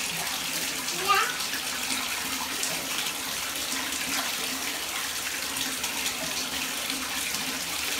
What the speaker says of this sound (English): Wash those feet really good.